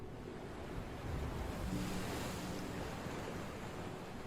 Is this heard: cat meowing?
no